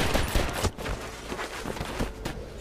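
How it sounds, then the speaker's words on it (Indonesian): Rapid gunfire in an action film scene from The Hard Way (2019), with dense bursts of shots and loud cracks following one another across the stretch, no talk. "Namun saat Mason ingin menembak lagi Briggs, ia berhasil kabur ke dalam kastil."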